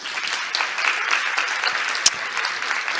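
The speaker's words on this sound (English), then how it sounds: "Give him and Åsa an applaud" A conference audience in a hall at an international environmental summit applauds with a continuous, even wash of clapping and one sharper clap near the end.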